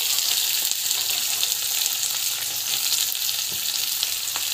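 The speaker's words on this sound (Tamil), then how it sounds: "இந்த ஸ்டேஜில் ஆனியன், பச்சை மிளகாய் ரெண்டுத்தை வந்து ஆட் பண்ணிவிட்டு கொஞ்ச நேரம் வந்து வதங்கட்டும்." Onion, green chilli and chana dal sauté in a hot oiled pan, giving a steady, close, even hiss of sizzling with faint stirring knocks and no talking.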